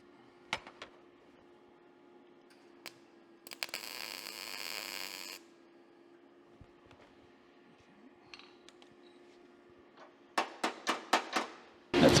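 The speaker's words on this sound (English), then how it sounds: "I'll weld him." A rusty door being welded, one steady crackling buzz lasting about two seconds over a faint mains hum, then quieter scrapes and a quick run of sharp knocks and taps close by.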